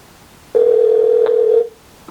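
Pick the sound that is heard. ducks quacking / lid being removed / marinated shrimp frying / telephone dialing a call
telephone dialing a call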